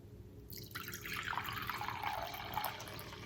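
Apple cider vinegar pours into a 2-cup glass measuring cup for canning salsa, a steady liquid stream that starts abruptly and fills with a rising gurgle, close and alone.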